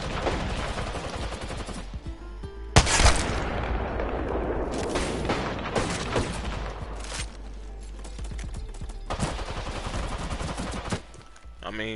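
Rapid, loud gunshots and bursts of automatic fire crack continuously in a shooter video game, with a sharp blast near the middle and players talking over the shooting.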